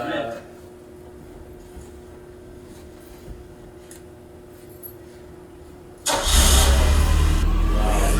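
A Ferrari Dino 308 GT4, a car with a choke, sits quiet for several seconds with faint background talk, then its engine cranks and catches, bursting into a loud, close, rumbling idle.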